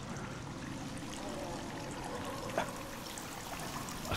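Running water trickles steadily in the survival video game The Forest, a continuous soft babbling stream with one faint knock partway through and no talking.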